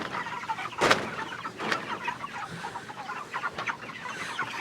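Farm chickens cluck and call intermittently at moderate distance, one sharp squawk standing out early, over a constant outdoor hiss.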